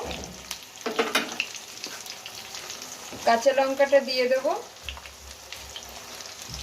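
Steady frying sizzle of garlic and vegetables in a pan throughout, with a short stretch of speech over it in the middle.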